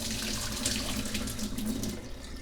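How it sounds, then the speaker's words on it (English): Water draining out of a pot on the stove, a continuous close gush and splash into a sink, steady throughout the short stretch with no talk. "I'm going to drain the water out."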